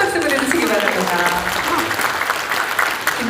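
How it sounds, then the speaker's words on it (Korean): An audience applauds a soprano who has just sung at a medical centre opening ceremony in a convention hall, a dense, steady wash of clapping filling the space, with a voice speaking over it. "여러분 다시 한번 큰 박수 보내주시기 바랍니다"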